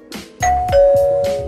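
A notification bell chime sound effect rings loud and clear, two ding-dong tones, the second sustaining and slowly fading, over a faint rhythmic background beat.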